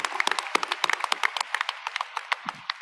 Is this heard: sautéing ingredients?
no